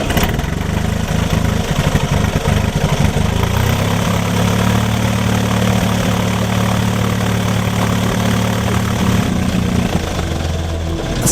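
A mission aircraft's piston engine runs after a spark plug cleaning, a loud, steady, throbbing drone that holds for over ten seconds with a slight shift in pitch partway through.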